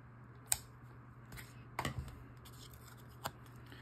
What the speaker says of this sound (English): I'm going to cut my twine.